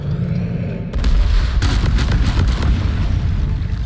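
Crassus detonator blowing up in Deep Rock Galactic, a sudden heavy boom followed by a rumbling, crackling barrage of secondary blasts and debris that stays loud to the end.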